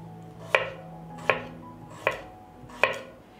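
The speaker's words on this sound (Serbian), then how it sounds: "Iseckat ću jednu glavicu luka na šnitice." A knife slices through an onion on a cutting board, four crisp evenly spaced chops close up, with quiet pauses between each cut.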